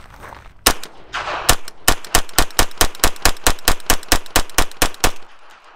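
A Palmetto State AKV 9mm rifle fed from a plastic Scorpion magazine fires a few separate shots, then a rapid, evenly spaced string of loud close-range reports that ends abruptly.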